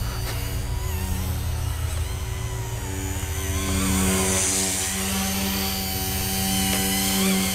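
A repaired RC helicopter flies on a test flight, its rotor giving a steady buzzing whine with a low thrum that rises and falls slightly as it hovers and manoeuvres at moderate distance, no talk.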